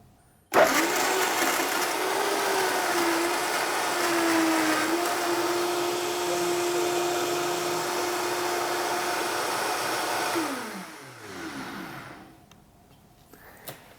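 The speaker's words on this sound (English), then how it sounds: "Blend it for about a minute," A blender whirs through a fruit and nut smoothie, a loud, steady high-pitched motor roar starting abruptly and holding for about ten seconds before winding down and stopping.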